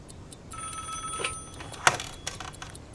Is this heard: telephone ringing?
yes